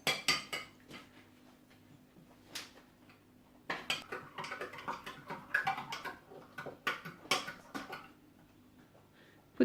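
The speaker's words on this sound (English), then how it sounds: "mix it with a spoon" A spoon clinks and taps against a cup while salt is stirred into water for a children's egg experiment, irregular bright ticks in short bursts with quiet gaps, close and fairly faint.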